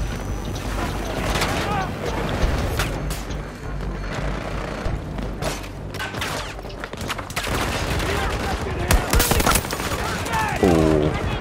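Gunfire in Battlefield 2042 multiplayer crackles in bursts and rapid volleys with booming impacts, loud and busy throughout, mixed with game noise and some voice.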